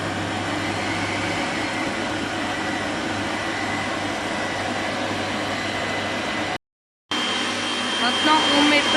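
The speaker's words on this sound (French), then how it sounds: "On met déjà le beurre mou, mais pas fondu dans le robot" Stand mixer beating 150 g of soft, unmelted butter for a chocolate buttercream, a steady loud motor whir with a brief cut near the end, then the hum returns.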